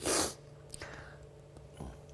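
A single sharp sneeze bursts out at the start during a live morning news broadcast, followed by quiet breathy sniffs and faint rustling.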